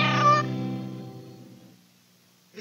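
A cat gives a single drawn-out meow in a 1980s Johnny Cat cat litter TV commercial, close and clear at first, then fading away over about two seconds.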